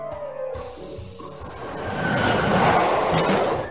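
A bullet train sound effect from the Puzzingo toddler puzzle game rushes past with a rising, hissing roar that swells to a peak and then begins to fade, with no voices.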